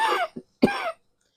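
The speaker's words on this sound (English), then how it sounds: "My cough is coming back." Two bursts of coughing from a woman, a short one followed by a slightly longer, harsher one, heard close and alone with no talking.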